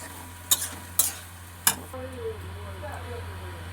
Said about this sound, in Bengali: এবারে দিয়ে দেবো 1 চামচ চিনি, দিয়ে পালং শাকটাকে আমি ভালো করে কষে নেব।